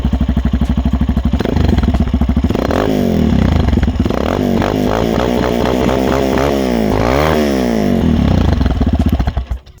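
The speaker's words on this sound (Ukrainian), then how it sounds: "ось так звучить прямоток мого вайперу" A loud Viper V250L motorcycle with an open, straight-piped exhaust revs repeatedly, rising and falling in sharp bursts before cutting off at the end.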